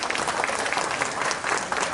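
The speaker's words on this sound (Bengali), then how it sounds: "তার জন্য আমি অনুরোধ করব সবাইকে যে অন্তত আমাদের মুখ্যমন্ত্রীর জন্য একবার হাততালি সকলে দেন।" An audience at a press club inauguration in Tripura claps for the chief minister, a sustained burst of many hands with slight swells, heard alone without speech.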